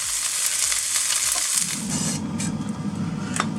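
Eggs fry on a Karinear plug-in ceramic hob with a steady, close sizzle that crackles throughout, turning a little fuller and lower partway through, with no one speaking.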